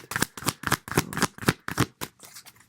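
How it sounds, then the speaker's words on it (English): Tarot cards being shuffled up close, a rapid run of crisp riffling bursts in an uneven rhythm, quiet and alone. "We're just gonna start shuffling"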